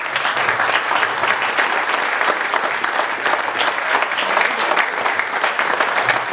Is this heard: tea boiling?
no